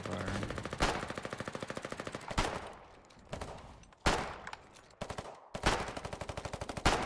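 Rapid bursts of video game gunfire from a multiplayer war shooter, machine-gun rattles broken by several sharp, loud shot clusters over seven seconds, with no voices.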